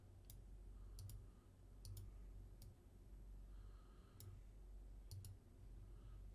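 Computer mouse clicks while edges are selected in Onshape CAD software: sharp, faint clicks, some in quick double pairs, scattered over a low steady hum with no talking.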